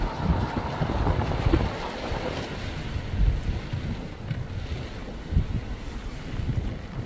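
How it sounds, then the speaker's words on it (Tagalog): Gusty wind buffets a parked vehicle during a heavy rainstorm, a low rumbling roar with rising and falling swells and steady rain hiss, heard from inside the car. "Punta dito yung hangin."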